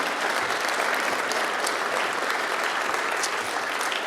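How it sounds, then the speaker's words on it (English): A conference audience at an international fisheries and ocean dialogue applauds the panel, giving a loud, continuous, even roar of clapping throughout. "A round of applause for our panel"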